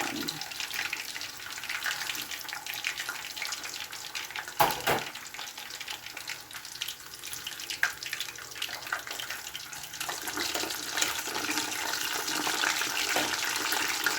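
Chicken pieces deep-frying in hot oil for crispy fried chicken, a steady broadband sizzle that runs throughout, with a brief clatter midway as the pieces are turned.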